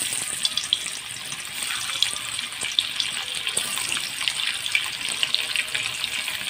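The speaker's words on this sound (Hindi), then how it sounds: "अभी इसमें मैं पनीर को डाल दूँगी एक एक करके।" Marinated paneer fries in hot oil in a kadai, producing a continuous bright sizzle scattered with small crackles and pops, close and steady throughout.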